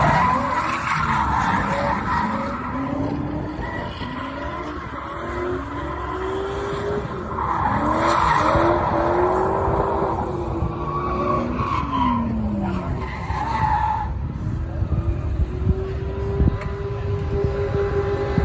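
An LS-swapped Nissan 240SX drift car skids continuously, with tires squealing and wavering over a loud, steady engine roar throughout.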